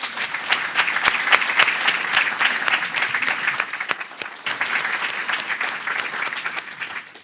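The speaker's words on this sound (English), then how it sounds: "But please can we give him a huge round of applause." Audience at a 2023 psychiatry awards ceremony applauding a prize winner, sustained dense clapping from a large crowd that holds steady for about seven seconds with a brief dip near the middle.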